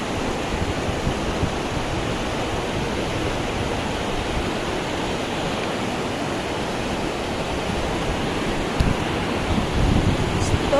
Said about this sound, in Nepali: यहाँ खोला बढेको